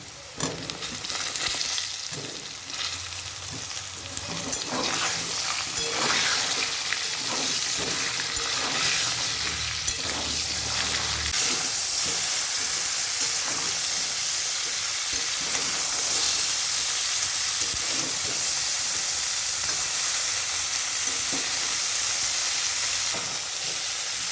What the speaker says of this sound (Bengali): এখন ফুলকপিটা আলুর সঙ্গে এরকম লাল লাল করে ভেজে নেব।